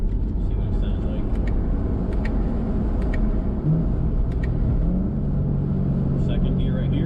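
A Corvette Z06 engine rumbles loudly from inside the cabin while slowing for a light, with low throaty drone and a couple of brief rising blips as it downshifts, continuous throughout.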